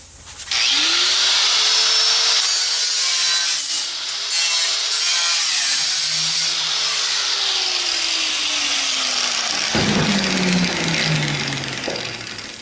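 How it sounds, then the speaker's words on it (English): A cut-off wheel slices through the rusty steel fender of a 1957 Chevrolet Bel Air, a loud, close, continuous high-pitched grinding shriek whose pitch sags and rises as it bites, cutting off abruptly near the end. "I'll use a cut-off wheel."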